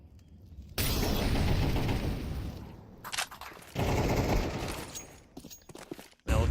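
Gunfire in a competitive Counter-Strike pro league match rings out in long, loud bursts of rapid automatic fire, broken by short pauses and a final abrupt burst at the end.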